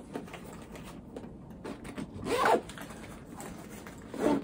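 A zipper on a tech bag with two zippers is pulled in a couple of quick, close rasping strokes, with faint handling noise between them and no talk.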